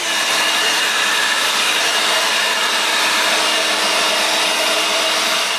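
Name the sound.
leaf blower droning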